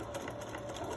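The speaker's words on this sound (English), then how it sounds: "now I'm going to sew down this long side that has the opening" A sewing machine stitches a long side of a pleated fabric face mask, a steady, close, even mechanical whir with a fast needle rhythm throughout.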